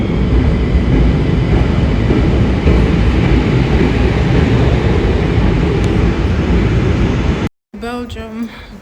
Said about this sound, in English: I'm hoping that is the train coming.